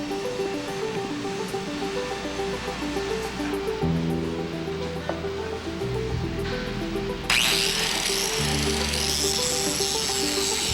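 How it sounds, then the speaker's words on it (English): An angle grinder works a piece of metal amid harsh, sustained broadband noise with a steady low mechanical drone, growing brighter and louder toward the end. "Joe's job is to grind a piece of metal"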